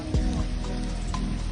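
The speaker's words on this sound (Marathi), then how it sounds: "नरंदेच्या इथे चांगलाच पाऊस लागला." Steady rain falling near Narande on a highway trip, a dense constant patter close by with faint low rumbles underneath.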